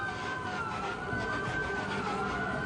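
Steady wailing emergency vehicle sirens in a city street scene near a highway, continuous and fairly loud over a dense background rumble of traffic.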